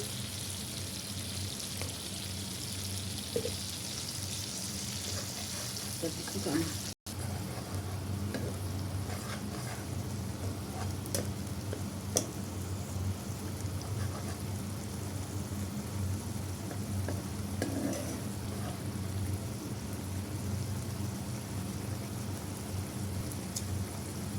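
Sweet rinse water hits a hot cooking pan, leaving a soft, continuous sizzle and hiss at a fairly low level for a long stretch, with a brief gap and a few light clicks.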